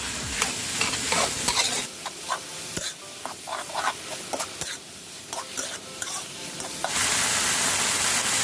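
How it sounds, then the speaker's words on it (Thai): Mussels stir-fried in a wok with oyster sauce and seasoning sauce, a steady sizzle broken by repeated scraping and clinking of the spatula, close and fairly loud throughout, with the hiss brightening near the end. "แล้วก็ทำการผัดให้มันเข้ากันนะคะ"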